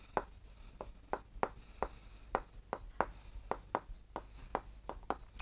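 Pen on paper while working out a maths solution, a run of quick, close scratchy strokes and taps in an irregular rhythm, fairly quiet with no talking.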